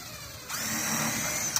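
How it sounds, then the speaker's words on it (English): A power drill bores a pilot screw hole into 2x6 lumber, its motor whining up steadily close by for about a second, with no talk. "we do pre-drill some screw holes"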